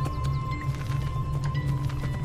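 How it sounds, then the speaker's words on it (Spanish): Horse hooves clip-clop in Assassin's Creed II, a close, rhythmic patter of steps over a steady low rumble and hum, with faint clicks scattered through. "Y aquí están los caballitos que uno los puede tomar y irse."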